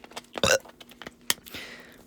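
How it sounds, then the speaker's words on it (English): A short throaty burp sounds close up amid scattered small mouth clicks and noises, followed by a brief breathy rush, with no speech over it. "why'd you burp like while I'm trying to speak to you guys?"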